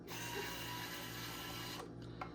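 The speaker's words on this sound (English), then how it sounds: "Love these electric screwdrivers." Electric screwdriver whirring steadily as it backs screws out of the cover of a Jada Elite Porsche 911 GT3 (997) RC car, close and continuous, then stopping abruptly with a couple of faint clicks.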